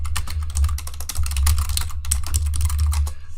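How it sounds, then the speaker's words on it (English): Fast, continuous typing on a computer keyboard, a dense close-up clatter of rapid keystrokes with brief pauses, heard alone without talk. "Nice typing speed."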